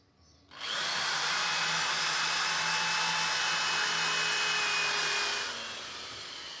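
A power drill drives a screw into a wooden chest, a loud, steady high whir that starts abruptly, holds for about five seconds and then winds down, heard close and alone.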